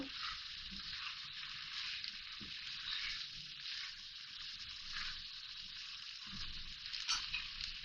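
Chicken macaroni frying in a pan, a steady hiss of sizzling with occasional scraping stir sounds, close and moderately quiet, with no talking.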